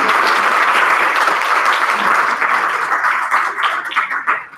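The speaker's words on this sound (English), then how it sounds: "give them a round of applause for joining us today and sharing" Audience at an online education conference session giving a round of applause for guest panelists, loud dense clapping that thins out and tapers toward the end.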